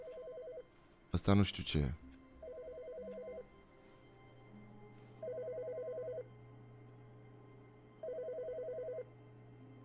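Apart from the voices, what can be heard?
telephone ringing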